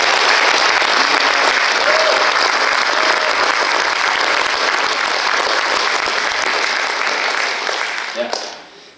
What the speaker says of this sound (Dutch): Ik wil graag een daverend applaus vragen voor de mensen die dit jaar